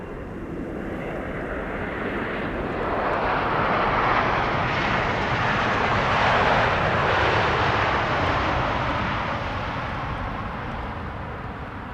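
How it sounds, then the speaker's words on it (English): A KLM Boeing 777-300ER jet lands at Amsterdam Schiphol Airport, a broad, steady roar of engines that swells in the middle and eases slightly toward the end, heard alone without voices. "This is KLM flight 682, arriving from Vancouver, Canada. It's a 777-300ER, landing now after 8 hours and 26 minutes of flight."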